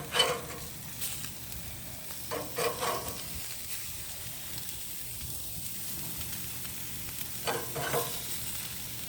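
Hamburger patties cook on a barbecue grill with a quiet, continuous sizzle and hiss, with occasional brief clanks and rustles in between.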